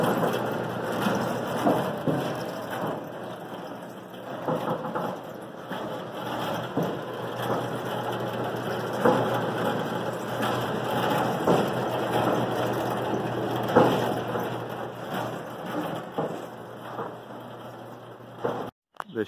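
A serviced Davis Model S5 mixer/blender motor, refitted with brand-new bearings, runs with a steady, even hum and a broad mechanical whir that holds constant for the whole stretch.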